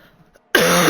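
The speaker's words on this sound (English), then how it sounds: "I do apologise if I'm coughing a lot." One loud, close cough bursts out abruptly after a moment of near silence, sharp and rough.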